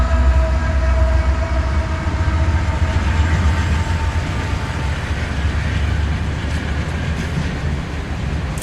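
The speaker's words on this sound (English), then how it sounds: "there's another train" Passing train, a loud continuous rumble and rattling roar of rail cars that fills the whole stretch close by, with no talk over it.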